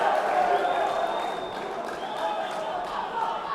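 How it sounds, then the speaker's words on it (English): A large arena crowd at an elite national boxing championship chants and cheers for Team Wabda, a steady loud roar that swells and ebbs without letup. "The Wabda chants are getting louder"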